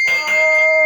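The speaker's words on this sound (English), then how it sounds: "Now, I'm going to ring a bell." A handheld bell rings close and loud, struck twice in quick succession, then left to sustain with a bright, steady metallic tone.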